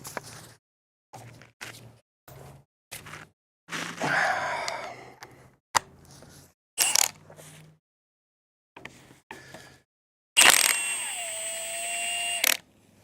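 Hand tools working on the bolts of a Toyota 2JZ engine being torn down, heard as short separate metallic clicks, ratcheting bursts and clanks with silent gaps between them, ending in a longer ringing scrape.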